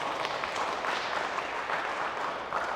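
A Korean church congregation in Berlin claps during a Sunday service, with steady, dense applause filling the room at moderate volume and no talking over it.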